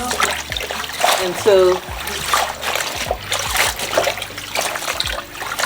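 Leafy greens being swished back and forth in a sink of salted water for bean soup, giving trickling, splashing water sounds close by with a voice talking over them.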